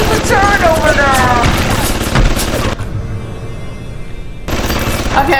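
Turret gunfire in the video game Bioshock, rapid repeated shots mixed with game effects, loud throughout with a brief quieter stretch before firing resumes.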